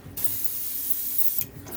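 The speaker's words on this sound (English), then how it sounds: "I'll spray like this, and I'll turn it 90 degrees, spray again" Spray paint hisses in one steady burst lasting over a second, close and fairly loud, as it coats model ship parts, with a short lull before and a brief second burst starting at the end.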